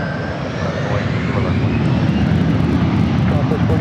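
Airbus A321neo jet taking off from runway 24 left at Los Angeles LAX airport: a steady, loud roar of engines holding at a constant level, heard from a distance with no distinct breaks.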